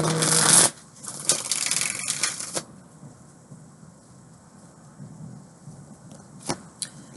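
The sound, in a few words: shuffling tarot cards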